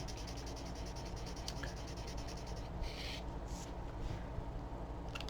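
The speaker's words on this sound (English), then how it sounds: "if I'm going to be coloring, I just use the end of the chisel nib and color away." Chisel nib of an Aspire color marker rubbing across paper while coloring, a faint steady scratchy scrubbing with a few quiet strokes standing out, close up and without talk.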